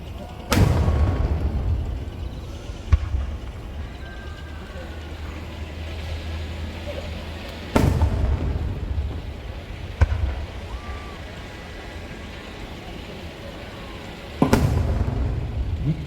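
Mirror Ball fireworks burst at the Nagashima Onsen display with three heavy booming explosions spaced several seconds apart, plus sharper minor pops, over an open crowd ambience with faint background voices.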